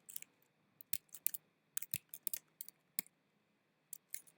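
Typing on a loud laptop keyboard during a coding session, crisp irregular key clicks in short bursts with pauses between them, close and clear over a near-silent background.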